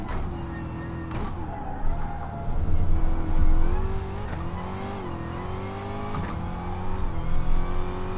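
A Gr.3 race car fishtails on the Dragon Trail circuit in Gran Turismo Sport. Its engine drones and revs steadily, and tire squeal rises and falls as the car slides, with a few sharp bumps over eight seconds.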